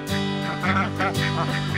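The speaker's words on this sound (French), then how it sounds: "Bonjour les canards, comment ça va?" Several ducks quack loudly and close by in quick, overlapping bursts.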